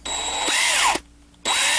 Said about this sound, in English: make sure this drill bit's seated in there nicely